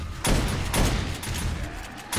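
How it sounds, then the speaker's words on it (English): Shotgun turrets firing in the video game 7 Days to Die, a string of loud, close, booming blasts repeating every half second or so over steady background noise. "And now the shotguns will do their thing."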